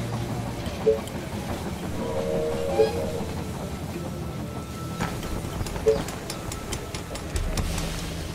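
Train arrival at a station in the strategy video game They Are Billions: a rumbling rail clatter with rhythmic clicks, under game effects and faint voice announcements, with a few sharp tones standing out.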